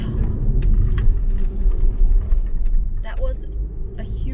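Car driving along a country road in Norway, a steady low engine and road rumble close to the microphone, with a person talking over it.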